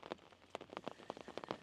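Light rain pattering on a canal surface, with quick irregular drops tapping close by at a faint, soft level and no voices.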